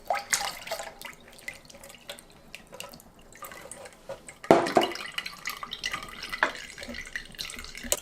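Water is poured from a 1.5-litre amount into freshly squeezed lemon juice for homemade lemonade, giving irregular splashing and trickling that swells into a louder gush midway, with no speech.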